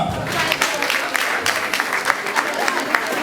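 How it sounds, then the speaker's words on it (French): An audience at a graduation ceremony applauds the mothers present, with close, brisk clapping, sharp individual claps standing out and voices murmuring beneath. "Je vais vous demander encore d'applaudir toutes les mamans qui sont ici présentes."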